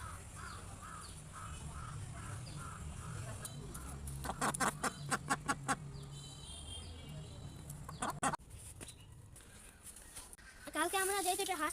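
Two newly arrived ducks give a quick series of quacks at a rural home, set among clucking chickens and cawing crows, faint and somewhat distant.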